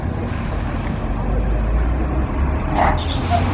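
A Scania lorry arriving, its engine a steady low rumble close by, with a brief hiss of air brakes near the end.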